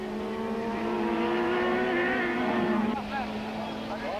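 Super touring race cars roar toward the finish at the 1995 AA Fleetcare round at Aldo Scribante, a sustained engine drone with rising harmonics. An excited commentator talks over the noise throughout.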